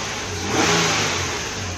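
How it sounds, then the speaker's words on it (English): Infiniti/Nissan engine revving after a misfire fix, one smooth rise and fall of engine speed heard up close and loud, with no talking. "I'm gonna rev it up."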